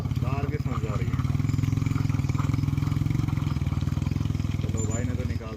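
A motorcycle engine drones steadily on a damaged mountain village road in Garhwal, a continuous low, throbbing rumble close by, with a voice speaking over it.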